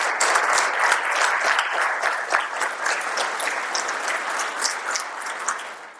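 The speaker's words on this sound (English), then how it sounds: "Will you join me in giving them a round of applause?" A conference audience at a real estate market forecast panel applauds committee members in a dense, steady round of many hands clapping that carries on loudly and evenly throughout, with no one talking over it.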